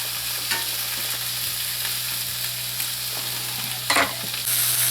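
Onions and garden vegetables frying in a pan for a homestead stir fry, with a loud, steady sizzle and the scrape of a utensil stirring through them, plus a few sharper knocks against the pan.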